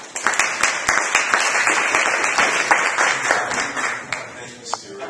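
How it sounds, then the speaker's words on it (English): Audience applause for a speaker at a business talk on brand case studies, dense clapping from a crowd filling the space, steady throughout and close, with no talk over it. "let's give him a big round of applause"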